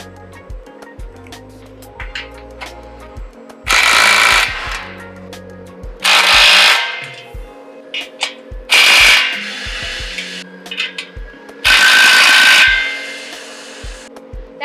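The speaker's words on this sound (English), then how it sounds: "then we can tighten down the clamps the rest of the way." Power tool tightening exhaust clamps during a BRZ/86 exhaust install, four loud whirring bursts of about a second each, separated by quieter clicks and handling noises.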